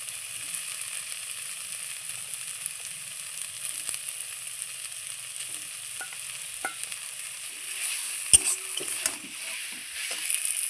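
Fried potatoes are stirred into taro stalks in spiced masala in a pan, giving a quiet, steady sizzle with occasional soft spatula scrapes and a sharp clink near the end.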